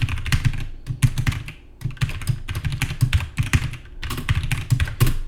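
Fingers type code on a computer keyboard in quick, uneven bursts of close, crisp key clicks with short pauses between runs.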